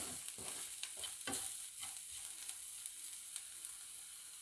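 Spices frying with onion in a pan over a low flame for stuffed chillies, a steady soft sizzle broken by repeated scraping stir strokes, close and alone with no talk.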